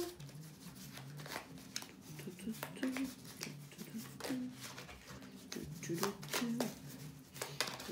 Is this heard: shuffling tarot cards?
yes